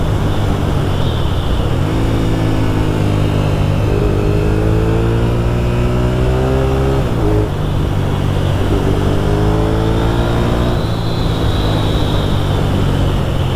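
A 1997 Suzuki TL1000S motorcycle accelerates hard on a road. Its loud engine note climbs in pitch, drops briefly at gear changes, then climbs again, sustained and close throughout.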